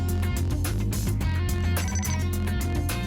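A telephone rings steadily after a call is placed to a bank's main number, a loud repeating ring tone with a dense electronic timbre, heard alone.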